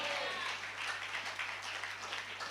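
A church congregation claps together in a sustained, dense burst of applause that fills the space and stays steady the whole time, with no voices rising above it.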